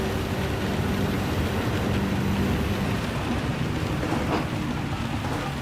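Steady heavy rain at Fuji in Gran Turismo 7, a dense hiss filling the scene alongside a low engine drone throughout, with no talk.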